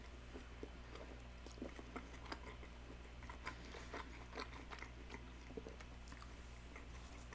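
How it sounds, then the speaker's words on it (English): Quiet close-up chewing of a McDonald's McRib sandwich: soft, moist bites and small crunchy clicks in an irregular rhythm over a steady low hum, with no talking. "Gotta be mindful of my chewing."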